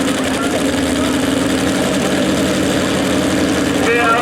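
A 2005 Chevrolet SSR truck engine idles with a steady, loud, low rumble that stays even from start to finish, with no clear revs or breaks.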